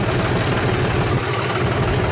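A tractor engine pulling a water tanker runs at a steady low diesel idle-like rumble, close and continuous with no talk.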